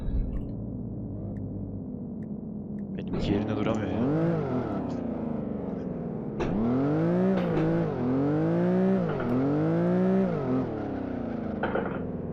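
A simulated car engine in the racing game Live for Speed drones and revs, pitch rising and falling through repeated gear shifts, loud and steady with a brief drop in the middle.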